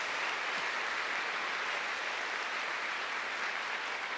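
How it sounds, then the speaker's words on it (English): A debate audience applauds, a dense, steady wash of clapping from many hands that holds at full strength throughout. "give them a clap for the affirmative."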